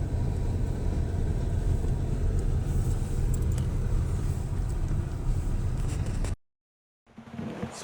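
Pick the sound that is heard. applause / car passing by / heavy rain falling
car passing by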